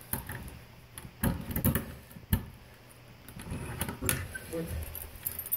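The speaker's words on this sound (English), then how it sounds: "Get my keys." Keys jangle in several short metallic bursts, close and clear, with small clicks and handling sounds in a dormitory room between them.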